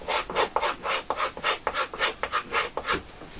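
A bushcraft knife is drawn rhythmically along a strop, about a dozen quick, even rubbing strokes back and forth, close and clear with no talking.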